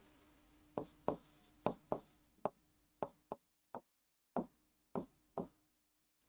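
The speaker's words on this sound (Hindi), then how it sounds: "तो मैं लिख रहा हूं कि ब्लैंक ग्रुप अलाउ" Chalk or marker strokes on a board during a maths lesson: a dozen or so quick, distinct taps and scratches in an irregular rhythm, close and fairly quiet, with no talking.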